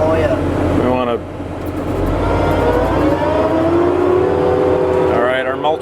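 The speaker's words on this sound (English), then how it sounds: "All right, our mulcher's spooling up." A forestry mulcher spools up to full RPM while clearing a property. A loud, continuous engine drone carries rising whining tones that swell near the start and again at the end.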